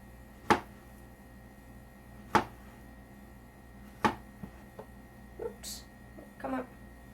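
A knife slices through plantains for tostones: three sharp, distinct cuts spaced a couple of seconds apart, then a few softer taps and scrapes, close and clear with no talking.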